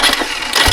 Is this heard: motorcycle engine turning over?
yes